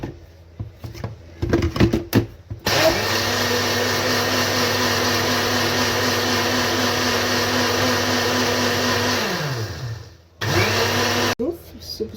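An electric mixer whirs steadily as it beats ingredients with added sugar, a loud continuous motor drone that starts after brief handling noises, winds down near the end, then restarts briefly.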